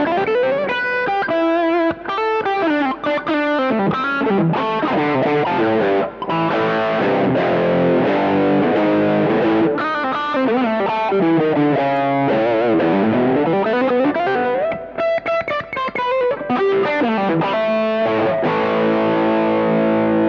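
Distorted electric guitar through a Tomsline Shaper pedal on its Deluxe Reverb 1x12 amp model, playing continuous chords and melodic runs with chorus-like shimmer, loud and steady for the whole stretch with no voices.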